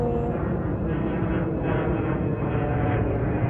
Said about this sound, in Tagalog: Yung aeroplano ulit.